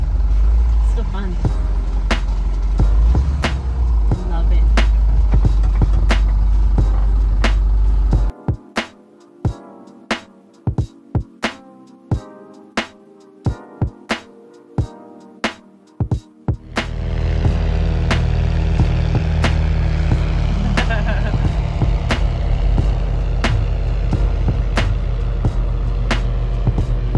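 An early Ford Bronco drives off-road in two-wheel drive, its engine rumbling loud and close with wind buffeting, and a stretch in the middle that breaks into choppy bursts.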